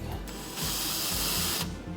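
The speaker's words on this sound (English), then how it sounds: "I'm just letting the weight of the drill take it down" A drill bit boring into wood under the drill's own weight, a close, loud whirring grind that surges steadily for about a second amid mechanical rattling, with no talking.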